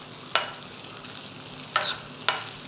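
Apricots cooking lightly in ghee in a pan, a faint steady sizzle broken by three sharp stirring scrapes, close and quiet with no talking.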